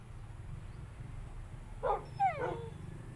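Dogs in the Minecraft video game, two short, fairly faint barks close together over a low background hum.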